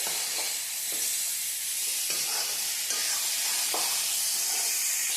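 Continuous crackling sizzle of vegetables frying in hot oil for a fish and papaya dish, bright and hissy, with faint stirring scrapes now and then.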